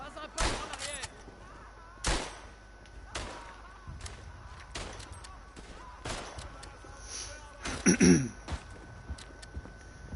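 Rifle shots in the World War I trench shooter Verdun, set in a dark, tree-covered trench: sharp, loud cracks spaced a second or two apart, with distant booms and rumble underneath and a voice talking now and then.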